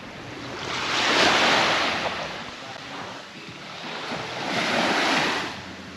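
Ocean surf rolls onto a beach in two broad swells, rising and falling over several seconds, with a steady wash and some wind buffeting the microphone; no one speaks.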